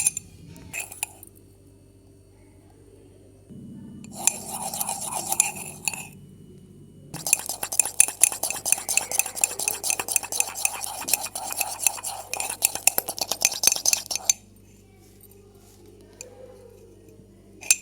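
A fork beats instant coffee in a cup, first in short bursts and then in a long run of rapid clinking strokes against the side that fades to quiet, close up, with no voices.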